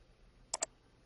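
Two quick computer mouse clicks during a SQL Server Express installation, close and crisp, a brief double tap over a quiet background hiss.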